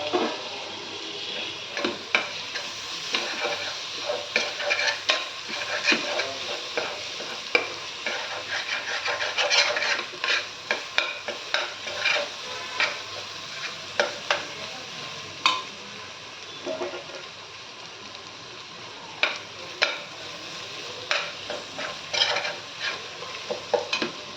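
Tomatoes stirred and fried in hot oil in a pan for chicken curry, with a steady close sizzle and repeated scraping, clattering strokes of the spoon throughout.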